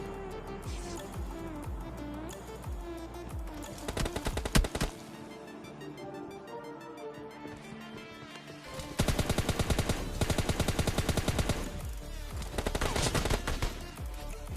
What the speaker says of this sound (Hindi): तभी हमें सामने से M16 चलने की आवाज़ आती है